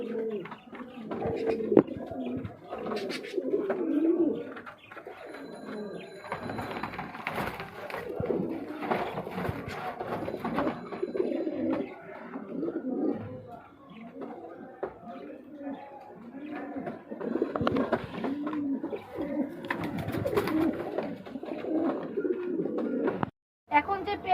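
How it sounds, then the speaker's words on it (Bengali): Pigeons, including breeding pairs of red Sirazi, coo steadily throughout, soft rolling calls overlapping one another, with a person talking over them much of the time. "অনেক সুস্থ কবুতর দেখতেই পাচ্ছেন"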